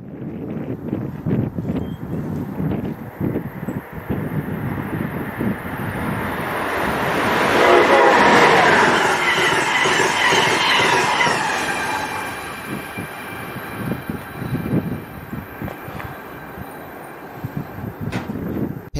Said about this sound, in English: going from Springfield, Massachusetts to Roanoke, Virginia, with Amtrak ACS 64 number 648 leading